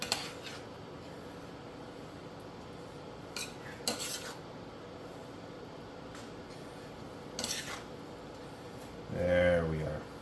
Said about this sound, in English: So we will stir this up.